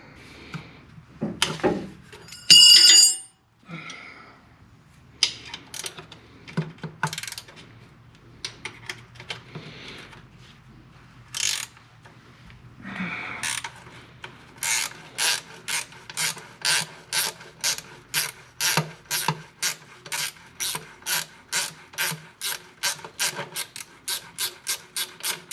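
A ratchet wrench works bolts off the spacer plate of a Ford 289 V8 short block from a 1966 Mustang, with some clunks and scraping early on, then a long, steady run of loud, evenly spaced ratchet clicks close to the listener.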